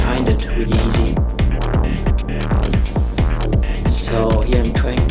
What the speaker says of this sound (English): So here I'm trying to pitch the pad sound.